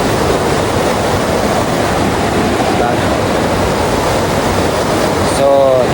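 A river running strong on a hiking trail, with a loud, steady broadband rush of water filling the whole stretch without pause, some wind buffeting on the microphone.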